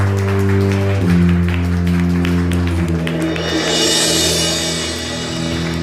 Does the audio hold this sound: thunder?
no